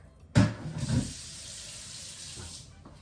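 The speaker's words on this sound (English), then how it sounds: "just put your pan to soak with some water." Tap water suddenly gushes into a pan coated with leftover caramel from making Mexican flan, a steady splashing hiss that runs on for several seconds.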